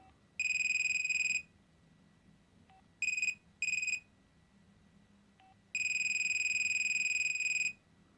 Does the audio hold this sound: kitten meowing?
no